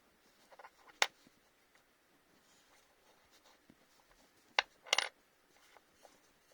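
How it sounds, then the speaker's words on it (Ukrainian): Ukrainian 25-kopiyok coins from 2013 are flipped over on a hard surface, giving a couple of faint sharp clicks early on and a short clatter of metal taps later, with quiet room noise between. "Тепер перевернемо монети"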